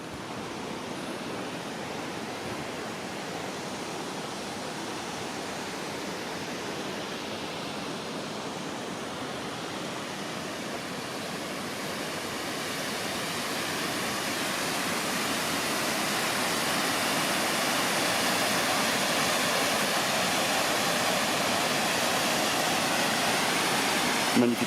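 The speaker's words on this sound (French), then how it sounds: "magnifique cascade." A waterfall in the Cirque d'Estaubé in the Pyrenees roars as a steady, broadband rush of falling water, continuous and fairly close, swelling a little louder in the second half with no break.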